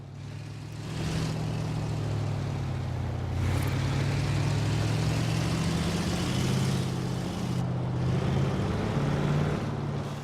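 A low, steady car engine rumble from the video game Forza Horizon 4 idles and burbles continuously at low revs, thick and droning with slight wavering in pitch, no voices over it.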